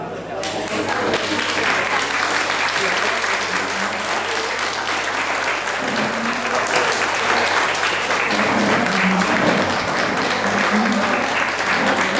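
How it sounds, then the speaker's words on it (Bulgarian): Enthusiastic applause greets the guest of honour at a Bulgarian high-school graduation ball, a loud dense wall of clapping and crowd noise that rises quickly and holds steady for over ten seconds. "Нека да я посрещнем с бурни аплодисменти."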